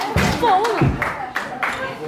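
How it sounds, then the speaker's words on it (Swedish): Spectators at a scooter competition applaud runner-up Hugo at the podium, scattered claps and thumps sounding under a loud announcer's voice that dominates the short stretch. "Stora applåder!"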